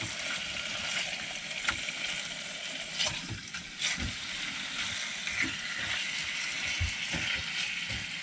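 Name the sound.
food frying in a pan in a van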